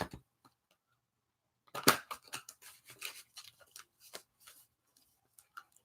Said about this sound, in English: So let me go ahead and shuffle this for you, Joanne.